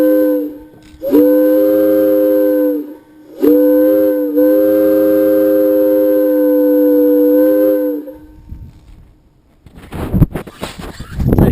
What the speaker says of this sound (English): This is a Hancock air whistle.